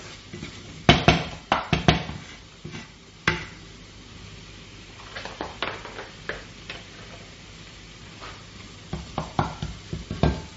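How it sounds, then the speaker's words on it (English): Onions sizzle in a pan with bursts of crackling and scraping as they are stirred while sautéing, irregular clusters of stirring sounds over a soft frying hiss. "I'm just giving it a good fry, sauteing it."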